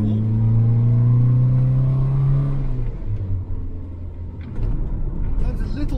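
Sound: Zastava Yugo 55A car engine while driving

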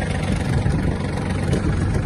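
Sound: Yanmar EF-222 mini tractor engine idling

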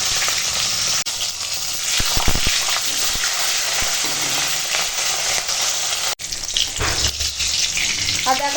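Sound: frying in hot oil

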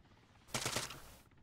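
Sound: gunfire from an enemy vehicle in a video game

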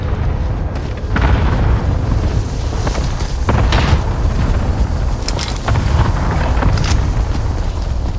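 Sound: cluster strike explosions in video game Call of Duty: Modern Warfare

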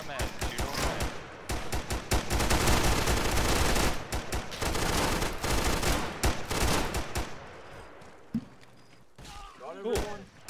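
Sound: gunfire from the video game Arma 3

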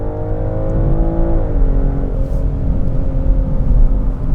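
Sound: BMW X5 xDrive50e accelerating hard in sport mode

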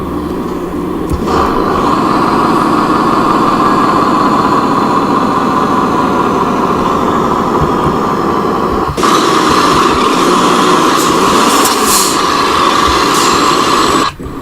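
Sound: truck exhaust brake in Euro Truck Simulator 2 video game

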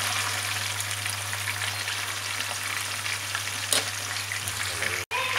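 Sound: frying pork skin in a pan

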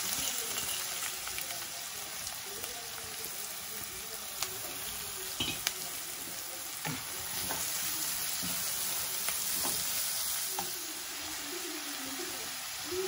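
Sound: chopped onions frying in hot oil

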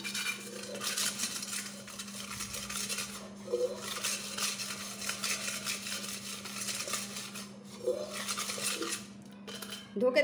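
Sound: washing a metal pot

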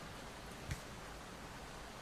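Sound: rain sound effect in the video game Airport CEO

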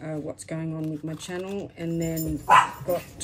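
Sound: dogs barking

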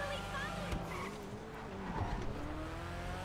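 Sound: Annis ZR350 car engine while driving, from GTA 5 video game

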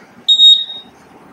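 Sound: workout timer alarm beeping

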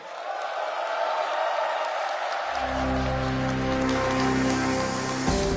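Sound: crowd applauding

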